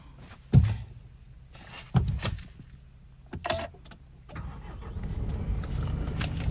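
2016 Nissan Navara 2.3 DCI 190 diesel pickup with 86k miles, cranking and firing up at once into a low, steady idle after some cabin clicks and thumps.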